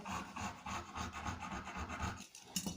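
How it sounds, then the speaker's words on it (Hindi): A tailor's wheel marker rolls across suit fabric laid on a cutting table, giving soft close rubbing and rasping strokes in a quick uneven rhythm, quiet and alone. "और ये निशान हम इससे व्हील मार्कर से लगाएंगे"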